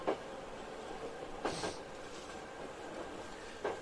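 A Hankyu train runs through the narrow platform of Nakatsu station, heard as a steady low rumble with short brighter wheel and rail bursts rising briefly at intervals.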